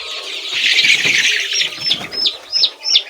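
Young chicks being handled and lifted, with quick bursts of wing flapping mixed with rising high-pitched peeps and chirps that come in short repeated calls, close and fairly loud.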